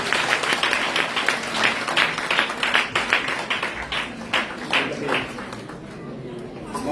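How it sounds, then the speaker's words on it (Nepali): A church congregation claps together during a service, a dense run of hand claps that swells and thins over several seconds, fairly close and fading slightly toward the end. "आजको भजन वक्तालाई एकपल्ट ताली बजाएर धन्यवाद"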